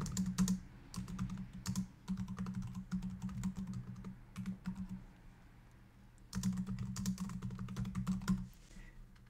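Typing on a computer keyboard, close and clear: bursts of rapid key clicks that pause briefly in the middle, then resume, with no talking.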